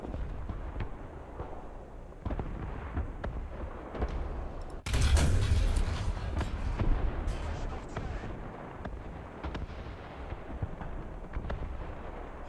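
A KV-2 tank cannon in the game War Thunder fires once with a single heavy, booming blast and a long rolling rumble, set against a quieter background of distant battle noise.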